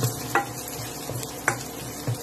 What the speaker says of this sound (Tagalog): nagigisa na po ako ng bawang sibuyas.